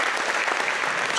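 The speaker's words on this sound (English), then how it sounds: "We could clap, yes, clap for that." Audience applause at an outdoor community walk event, a dense burst of many hands clapping, steady and fairly loud throughout the brief moment.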